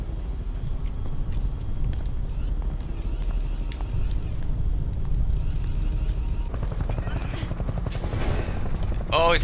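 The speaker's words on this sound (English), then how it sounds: "it's the rescue chopper" A rescue helicopter in Metal Gear Solid V drones with a steady low rotor rumble under game sounds and bursts of noise, with someone talking over it.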